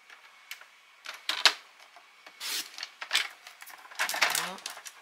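Scissors snip and rasp through paper while cutting out a handmade tulip card, in a series of short crisp cuts and rustles heard up close.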